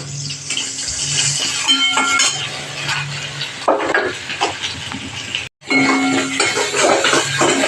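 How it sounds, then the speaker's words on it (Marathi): Masala paste fries in hot oil with curry leaves, loud close sizzling and spluttering with stirring scrapes, broken by one short silent gap; no talking. "हे वाटण मस्त असं खरपूस भाजायचं"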